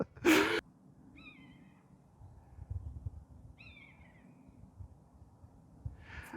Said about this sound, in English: There's some birds flying around the treetops. You won't be able to see them on here, but we can hear them